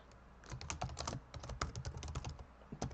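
Quick, irregular keystrokes on a computer keyboard tap out a short message in a quiet room, close and soft, with no one speaking.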